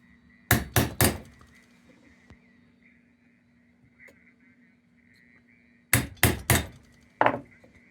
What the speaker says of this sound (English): giving it a little tap, tap, taparoo with the hammer